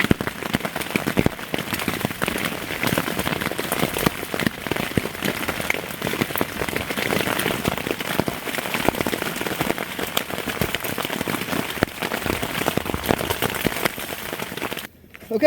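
Freezing rain patters steadily on a fully enclosed tarp shelter at a winter bushcraft camp, a dense, close, continuous drumming of drops that ends abruptly just before the end.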